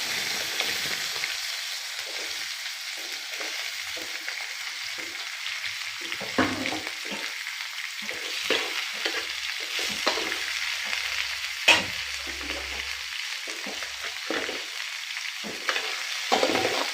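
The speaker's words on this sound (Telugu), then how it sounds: "దొండకాయలు ఈ ఆయిల్లో బాగా వేగాలండి." Ivy gourds frying in hot oil for a village-style chutney, giving a steady crackling sizzle with scattered sharper pops, close and continuous throughout.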